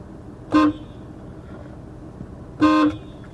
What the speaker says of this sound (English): this is what the horn sounds like with the car on from the inside of the cabin